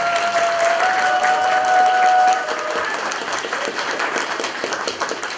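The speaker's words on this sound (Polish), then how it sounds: "Brawa za to, że przybyliście tutaj." A hall audience at a Women's Day evening concert claps in welcome, a sustained, fairly loud round of applause with a held musical tone early on that fades, leaving the clapping to continue a little softer.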